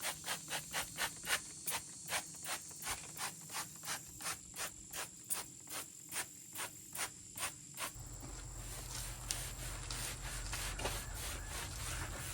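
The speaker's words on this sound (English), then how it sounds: "We got to get this tire stripped down to the bare rubber." Rhythmic brush scrubbing on a 20-year-old truck tire being cleaned down to bare rubber, about twenty regular strokes, then a softer steady hiss of rinsing or spraying.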